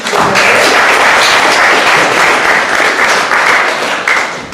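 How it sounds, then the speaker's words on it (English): Loud, sustained applause from a magic show audience greets a volunteer joining the performer on stage. Dense, steady clapping fills the whole stretch and eases off slightly at the very end. "Big round of applause please for Jane."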